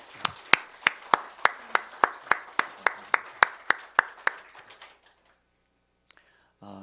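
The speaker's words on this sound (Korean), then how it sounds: "우리 먼저 하나님께 다시 한번 영광의 박수 올려드리겠습니다" A church congregation claps during a Sunday worship service. A dozen or so crisp, evenly spaced claps in a steady rhythm fade out, and near-silence follows.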